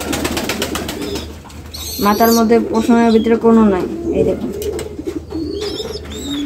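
A baby pigeon gives a brief run of cooing notes up close, rising between stretches of a person talking nearby.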